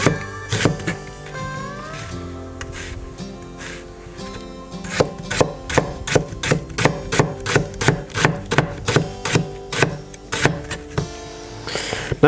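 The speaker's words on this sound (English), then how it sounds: "Notice I leave the middle of the onion, the core of it, when I'm chopping it up." An onion being chopped on a board while fish is cooked for breakfast after a New Zealand sea kayak trip, heard as a run of sharp, close, evenly spaced knife strikes that speed up into a steady rhythm.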